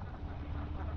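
A flock of farm ducks in Tiruvarur district, Tamil Nadu, quacks in a steady, dense chorus, with no single call standing out.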